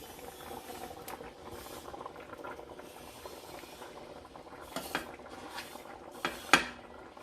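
Utensils clink against dishes while braised pomfret with radish, cooked in an Instant Pot, is served. Quiet clatter runs over a low steady hiss, ending in a few sharper knocks.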